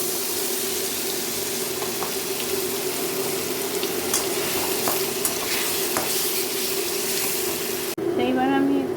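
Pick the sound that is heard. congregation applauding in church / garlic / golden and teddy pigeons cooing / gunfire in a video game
garlic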